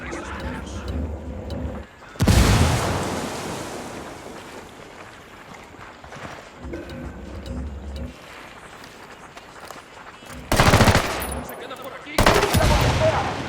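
Gunfire and explosions in the tactical shooter game Ghost Recon Wildlands, after a thrown frag grenade. Loud bursts of shooting come at about 2 seconds, then again near 10.5 and 12.5 seconds, with a steady hum of game ambience in between.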